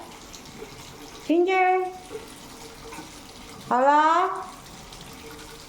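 Tap water runs steadily at low level while cats drink from it at home, broken twice by a voice calling out in a rising tone.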